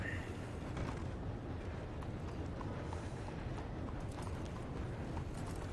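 Horse hooves clip-clop steadily across open ground in the Red Dead Redemption game, a continuous trotting rhythm under a dense, noisy ambient bed with no clear speech.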